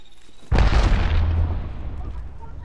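A grenade goes off in Apex Legends: one sudden, loud, close blast with a deep booming body that rumbles and slowly fades over the next two seconds.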